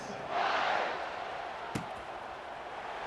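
A stadium crowd in the College Football 26 video game swells into a broad roar at a kickoff, loud at first and then settling into a sustained hum, with a sharp thump partway through.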